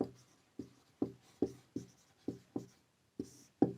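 Pen strokes while writing out an HCF math problem, a steady series of about nine short, crisp scratches at a regular pace, close and clear with no talking.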